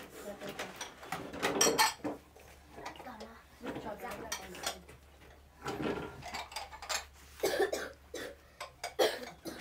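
A child coughs several times indoors at a family meal, the coughs mixed with people talking and the clatter of dishes and pots.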